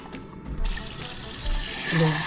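Cold tap water runs into a pot holding eggs, a steady nearby splash and trickle from the faucet filling the container, with a brief lower gurgle near the end.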